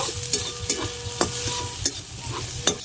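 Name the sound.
frying coconut with green chillies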